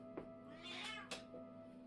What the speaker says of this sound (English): That is my cat. He is making his presence known.